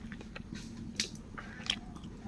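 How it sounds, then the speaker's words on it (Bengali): Close, quiet bites and chewing on fried flatbread, with a couple of distinct crunchy bites against a soft background. "আমি এবার দিয়ে খাচ্ছি"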